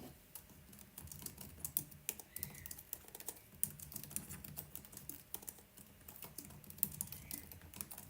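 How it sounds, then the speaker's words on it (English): Fingers type on a computer keyboard close by, a quiet irregular run of soft clicks and key taps with brief pauses, no talking. "I can't talk and type at the same time."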